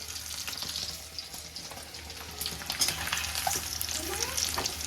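An egg fries in a pan in a home kitchen, making a fairly quiet, steady sizzle with a few faint clinks and scrapes, heard at moderate distance.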